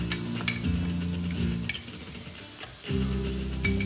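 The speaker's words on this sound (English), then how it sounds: "we're going to stir that around and mix it up with the squids before we add the rice" A spoon scrapes and stirs sofrito with squid in a paella pan, with intermittent metallic clinks and scrapes over a steady low sizzle that briefly drops away before resuming, close and alone without talk.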